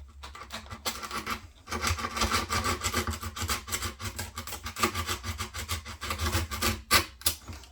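Steady rasping strokes of a file or sandpaper block worked back and forth along the edge of a skateboard deck, close and continuous with a short pause early on, no voices.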